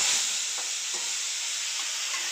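Ginger garlic paste sautés in ghee with a steady, even sizzle and soft hiss, broken by a few light stirring scrapes, close and continuous with no talking.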